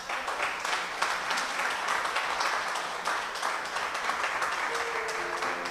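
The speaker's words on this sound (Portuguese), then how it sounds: "Você pode aplaudir o Senhor por isso?" A church congregation applauds the Lord during a sermon in a garage service, a steady mass of clapping with a faint tone entering near the end.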